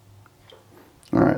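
Water pours into a plaster mold for slip casting, a short loud splashing gush that starts abruptly near the end after quiet handling sounds.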